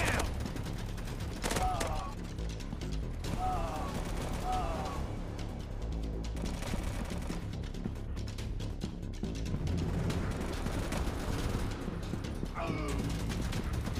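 Sustained gunfire in an Android first-person shooter game, dense bursts of rifle and machine-gun shots rattling continuously with booms, under shouted voices.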